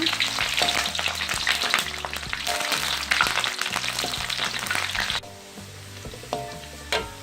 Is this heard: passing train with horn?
no